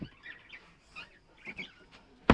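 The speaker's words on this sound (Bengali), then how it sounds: "এই যে পাশে হচ্ছে বাজরিকা পাখি" Budgerigars chirping in an aviary, a few short scratchy chirps and warbles at moderate distance, ending in a sharp close knock.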